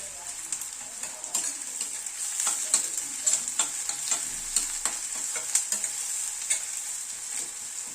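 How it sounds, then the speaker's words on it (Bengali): Four crushed garlic cloves and onion fry lightly in a pan over a medium gas flame, giving a steady close sizzle broken by frequent scraping clicks of stirring, with no talk. "পেঁয়াজ রসুনটা হালকা করে ভেজে নিচ্ছি।"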